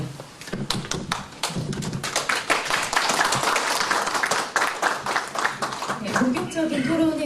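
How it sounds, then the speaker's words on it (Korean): Audience clapping for candidates at a policy debate event, close and fairly loud rapid hand claps that swell and then thin out, with some talk near the end. "큰 박수를 부탁드리겠습니다."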